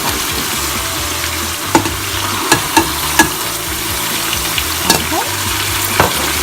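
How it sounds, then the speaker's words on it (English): Tomatoes and spices fry in a pan and are stirred, giving a loud close sizzle with a low hum beneath it and several sharp utensil knocks against the pan. One brief spoken word comes in. "I'm going to stir everything together."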